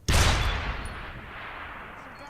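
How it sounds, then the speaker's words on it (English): A single sharp gunshot from the video game Deus Ex: Human Revolution cracks out loud and sudden, then trails into a long, fading echo with no talk over it. "They heard the gunshot over the mine?"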